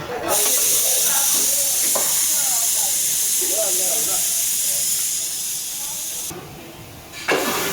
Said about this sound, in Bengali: এটা হলো 6 নাম্বার সিটি। প্রেসার কুকার খুব সুন্দর করে সিটি মারতেছে।